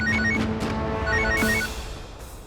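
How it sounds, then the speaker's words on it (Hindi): A telephone rings after a call is dialed to it, sounding as a loud, close electronic ringtone with repeating tonal bursts that fade toward the end. "वो छिपाए हुए फोन पर उनका नंबर डायल कर दिया है"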